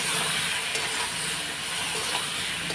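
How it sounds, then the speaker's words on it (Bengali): Chana dal with ground spices and cumin powder sizzles steadily in a pan as it is sautéed, a close, even hiss that continues without a break and without talk. "কিছুক্ষণ কষিয়ে নেব।"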